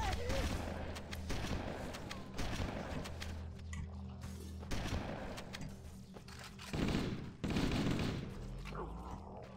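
Sustained gunfire and explosive blasts from Halo: Combat Evolved gameplay, with dense bursts of automatic weapon fire and heavier impacts rolling through the scene, loud and continuous, with a player's voice talking faintly over the combat.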